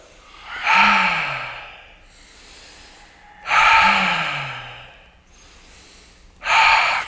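Deep breathing exercise: three loud, drawn-out exhalations or sighs, each rising sharply then tapering over about two seconds, separated by quieter inhales, close to the microphone with no talking.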